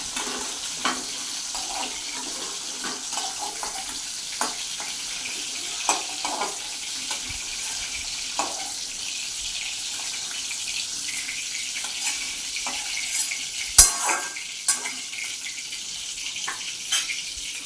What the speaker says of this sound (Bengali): এখন লাল করে ভাজা আমাদের একটু তুলে নিচ্ছি, তারপরে আলুটা ভাজবো।